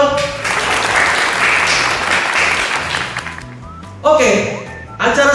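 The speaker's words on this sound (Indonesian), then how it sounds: "Saya mau minta tepuk tangan dulu untuk Bapak Michael." Audience applause at a formal ceremony with welcome speeches, a burst of clapping for about three seconds that fades as a voice picks up talking.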